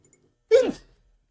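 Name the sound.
sneeze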